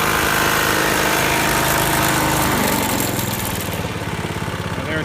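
A John Deere JX75 walk-behind lawn mower engine idling nearby, a loud, steady, rough mechanical rumble that eases slightly in level toward the end.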